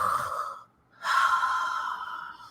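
A human voice imitates something breathing, giving two long, airy exhales separated by a short pause.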